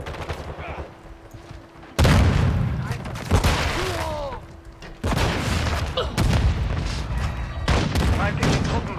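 Dense gunfire and explosions crack and boom in the multiplayer of the video game Call of Duty: Modern Warfare II, loud, close, overlapping bursts in repeated waves, with voices speaking over parts of the barrage.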